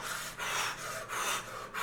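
A voice imitates hard breathing, producing four quick, rhythmic breathy pants in a row, fairly soft and close, with no words spoken.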